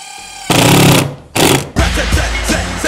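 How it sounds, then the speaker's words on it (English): A cordless impact driver drives a screw during woodworking, making loud, close rapid hammering rattles in three bursts separated by brief pauses. "it's that spring-loaded hammer that makes that rat-a-tat-tat noise as you drive in your screw"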